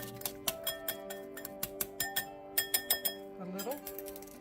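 Instant potato flake mixture for shepherd's pie being whisked in a bowl, a quick, irregular run of close clinks and taps as the whisk strikes the sides, with talk over it.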